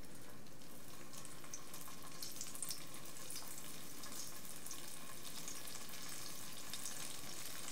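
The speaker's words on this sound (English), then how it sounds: "while these are frying up" Crunchy gluten-free goat cheese bites frying in hot oil, a steady dense crackle and bubbling hiss that holds at moderate level throughout, with no voices over it.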